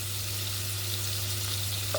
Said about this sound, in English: With a nice stir around, make sure the wine really goes into it.